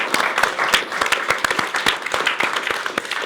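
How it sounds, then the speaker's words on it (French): A studio audience at a French talk show breaks into lively applause, close and crisp individual claps forming a steady rattling burst throughout. "On peut aussi vous applaudir"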